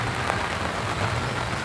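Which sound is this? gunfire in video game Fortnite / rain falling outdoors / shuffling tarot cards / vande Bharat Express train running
rain falling outdoors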